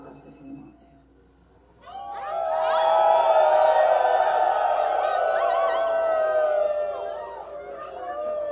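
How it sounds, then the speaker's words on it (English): At a concert at Schubas Tavern in Chicago, the audience joins in a long, loud collective howl. Many wavering voices rise together and hold for several seconds after a brief quieter moment. "you can howl with us if you want to"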